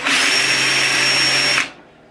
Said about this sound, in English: the drill went through and I wasn't able to catch it before it bottomed out